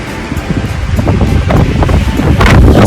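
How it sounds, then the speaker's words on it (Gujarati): Strong, gusty wind with light drizzle roars and buffets the microphone near a railway station in a steady low rumble, rising in louder bursts toward the end, with no voices. "બહુ જ પવન છે ને પવન"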